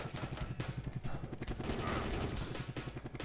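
Enemy gunfire in the video game Soviet Strike, rapid repeated shots from a figure in the wreckage of a building, running as a dense, steady rattle under constant engine drone.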